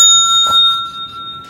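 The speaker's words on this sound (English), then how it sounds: "Says hit the bell for service." A service bell gets one sharp strike near the middle, and its bright metallic tones ring on steadily and slowly fade. Nobody speaks.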